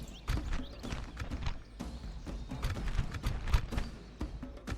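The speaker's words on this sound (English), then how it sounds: "Here come the horse archers." Horses of mounted horse archers gallop in a fantasy strategy battle game, a steady rush of clip-clop hoofbeats with heavy thuds, loud and close, continuing throughout with no talk.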